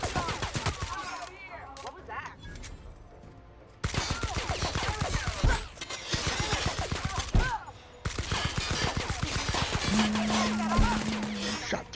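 Gunfire in the video game The Outer Worlds, rapid repeated shots in bursts, mixed with a rock song and a man singing along over the shooting.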